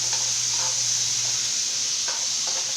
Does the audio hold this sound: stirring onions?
yes